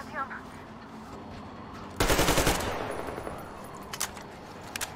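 Video-game gunfire during a fight in a Metro game: a sudden loud burst of rapid automatic shots, then a decaying tail, with a few sharper single shots afterward over quiet background.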